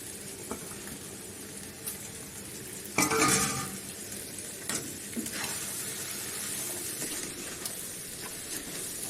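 Chicken liver frying with onions and curry leaves in a pan, a steady sizzle broken by a loud scraping stir around the third second and lighter spoon clinks afterward, with no talk.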